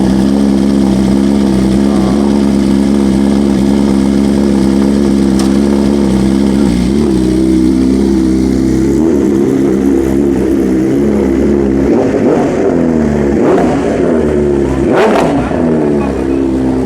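Superbikes fitted with aftermarket exhausts rev loudly and continuously at close range during a group ride, engines droning and rising, with throttle blips and roars stacking up near the end.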